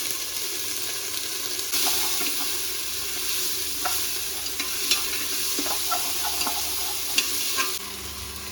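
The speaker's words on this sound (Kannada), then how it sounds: "ಒಂದೆರಡು ನಿಮಿಷ ಚೆನ್ನಾಗಿ ಫ್ರೈ ಮಾಡ್ತೀವಿ" Ginger garlic paste frying in hot oil for chicken and egg curry, a soft continuous sizzle with scattered crackles and spoon scrapes, close but quiet, with a few louder pops and no talk.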